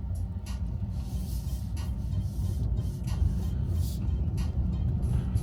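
Steady road and tyre noise heard from inside a moving Tesla, a constant low rumble with faint hiss and a few soft intermittent ticks, moderately quiet.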